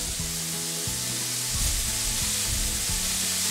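Skin-on chicken pieces frying in a pan, a loud, continuous crackling sizzle of hot fat with occasional spits and pops, steady throughout and close, with no talk.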